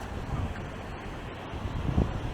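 Waves wash into a horseshoe-shaped bay at San Juan del Sur, Nicaragua, where small boats and dinghies are moored, a soft continuous surf blended with gusty wind noise on the microphone.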